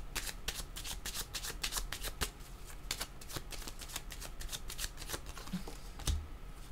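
A deck of tarot or oracle cards is shuffled by hand for a card reading: a steady run of crisp riffling flicks and soft slaps, close and continuous, with no talking.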